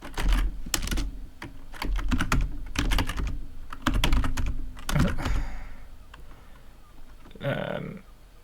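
Typing a Linux terminal command on a computer keyboard while installing VirtualBox Guest Additions: a close run of quick key clicks in uneven bursts, with a few louder taps and a thunk near the end.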